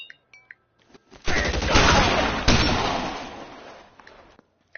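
Sustained submachine gun fire in the video game L.A. Noire, a loud, dense burst of rapid shots rolling on for about three seconds before tailing off, preceded by a few sharp isolated clicks and followed by quiet.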